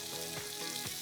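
Asparagus fries in a pan with a steady, quiet sizzle, broken by a few soft stirring scrapes during a brief moment.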